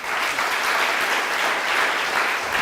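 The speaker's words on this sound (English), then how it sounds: "Now you can clap for that." A seated audience claps at an indoor talk, dense even applause heard steadily throughout from start to finish with no voices.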